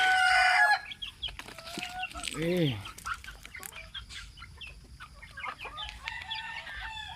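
Pet chickens cluck and a rooster crows in a morning yard, with a loud burst of calls at the start, then scattered clucks and bird chatter continuing at moderate distance.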